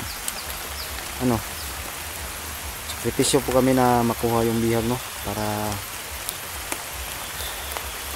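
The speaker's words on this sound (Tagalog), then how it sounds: "Malakas ang ulan" Steady heavy rain hisses throughout, with someone talking over it in the middle.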